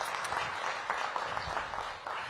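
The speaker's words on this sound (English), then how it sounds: "Give Sam a big round of applause" Audience applause at a mayor's press event announcing appointments, a brief burst of steady clapping from a modest crowd, moderately near and alone without talk.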